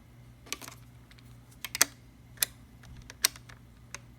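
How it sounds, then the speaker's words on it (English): Triangular screwdriver working screws on a Silent Panther Precision coffee grinder, a handful of sharp, separate clicks and ticks spread over a few seconds, close and quiet with no talk. "Then use the triangular screw driver"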